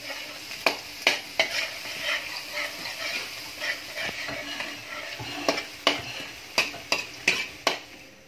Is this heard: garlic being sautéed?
yes